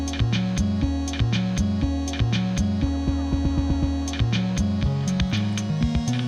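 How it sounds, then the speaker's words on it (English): Elektron Digitakt drum machine running a chained pattern sequence in song mode: steady punchy kicks, crisp hats and snares over a repeating bassline, with a short turnaround fill, clear and close with no talking. "It's basically an arrangement of patterns instructing the Digitact to play variations of this one pattern"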